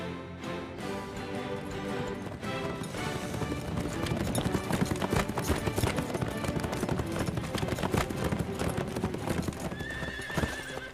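Horses' hooves clip-clopping in a horse cartoon, a steady rhythmic trot on a mountain trail toward a meadow, mixed with horse whinnies and background score.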